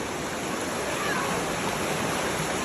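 River water rushes steadily past during a river crossing, a loud, continuous broadband wash with no clear breaks.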